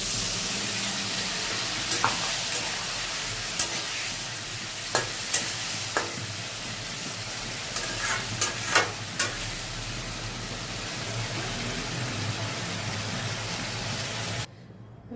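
Water poured into hot oil in a pan for a home-style vegetarian bora curry with potatoes, giving a steady, loud broadband sizzle with scattered spoon-stirring clicks, continuing until it cuts off near the end.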